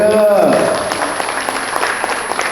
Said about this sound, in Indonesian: Kasih tepuk tangan dong buat Bu Ika.